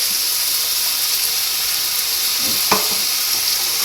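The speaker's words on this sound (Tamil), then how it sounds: "தக்காளி வணங்கிட்டு இருக்கும் போதே கொஞ்சம் இஞ்சி பூண்டுலாம் வந்து சேர்த்துருங்க" Tomatoes with ginger garlic paste fry in a pan, giving a loud, steady sizzle and hiss with a brief stirring scrape near the end, with no talking.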